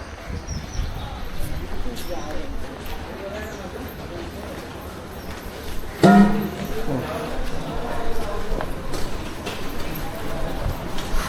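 Train at Sangameshwar railway station, heard as a low rumble of rail cars with a sharp clank partway through, mixed with platform noise and people talking nearby.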